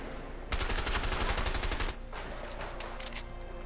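Gunfire in A Way Out, a rapid, loud burst of repeated shots lasting over a second, then a few scattered fainter shots with lingering echo.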